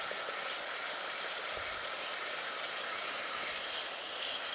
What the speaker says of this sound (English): You can see there it's boiling.